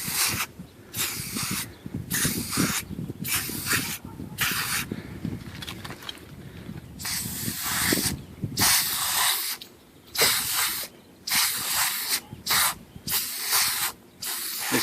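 Foaming coil cleaner from an aerosol can sprayed into air conditioner coil fins, loud close hissing bursts, the first long and continuous, then a rhythmic series of short sprays separated by brief pauses.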